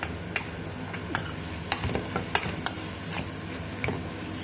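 Coriander leaves sauté in a pan for a pickle, heard as a soft continuous sizzle broken by repeated scraping stirs of a spoon against the pan, close and fairly quiet.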